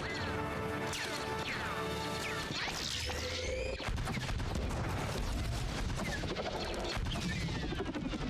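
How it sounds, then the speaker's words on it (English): Blaster fire in the Star Wars: The Bad Batch animated series: dense, loud bursts of sci-fi shots and crashes under a swelling musical score and sweeping whooshes, continuous throughout. "Did you not hear the blaster fire?"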